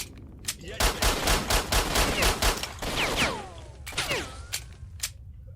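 Pistol gunfire in the video game S.T.A.L.K.E.R.: Shadow of Chernobyl: a rapid run of sharp shots, then scattered single cracks with whining ricochet-like tails, loud and close.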